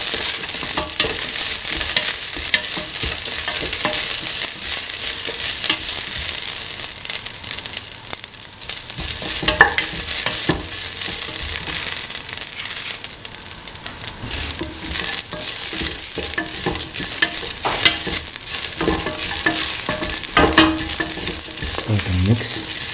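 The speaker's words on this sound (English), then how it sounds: "Keep on stirring." Tomato coconut rice with grated coconut and green chili stirred and fried in a pan, a continuous loud sizzle broken by scraping, rustling spatula strokes and occasional clinks, with no talking.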